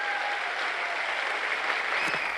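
Loud, dense applause from an audience at a motivational business seminar speech, a steady wash of clapping that fills the whole stretch without letting up, with a faint whistle or tone running beneath it.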